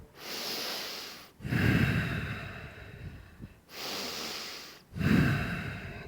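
Deep breathing while holding a horse stance, two full cycles of long airy exhales alternating with fuller, rougher inhales, close and clear with no other sound.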